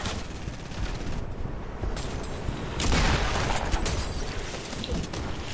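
Bursts of AK rifle fire in Fortnite crackle over a busy game soundscape. Shots come in rapid clusters, with a louder volley in the middle and distant explosive booms around them.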